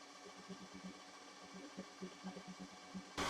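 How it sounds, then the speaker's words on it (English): A stand mixer runs with an Ooni silicone beater turning through a mix, giving a steady mechanical hum with soft rhythmic thumps on each rotation, ending in a louder burst of noise. "this noise you're hearing is the same sort of noise you get from a Kenwood or some other machines"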